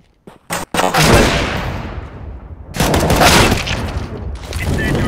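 Gunfire in the video game CS:GO, a few sharp shots followed by bursts of rapid rifle fire with rumbling booms, loud and close, in two main volleys.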